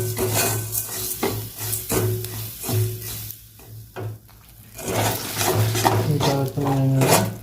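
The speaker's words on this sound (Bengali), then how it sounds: "ওই কড়াইতে আমি চিনি দিয়ে দেবো। নাড়তে ক্যারামেল করে নিয়ে" Sugar is stirred in a metal wok to make caramel, with repeated scraping strokes of a spoon against the pan and a light sizzle, loud and close, pausing briefly midway.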